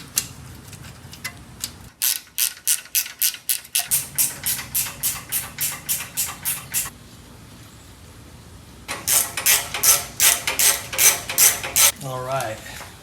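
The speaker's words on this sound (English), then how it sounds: "Let's try the ratchet on there." A ratchet wrench turning 10 mm intake bolts on a VW Beetle engine, fast rhythmic clicking in two long bursts separated by a quiet pause, close and crisp, with a brief squeak at the end.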